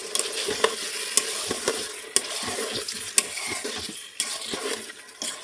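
Chicken and dal chana stir-fried together in a pan, drained ingredients mixed in: close sizzling with repeated sharp spoon scrapes and clacks at a steady rhythm, no speech.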